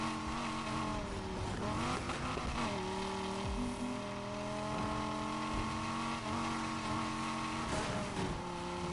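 A race car engine in the video game Need for Speed Heat drones continuously near and loud, its pitch rising and dropping with shifts, with faint tire noise underneath.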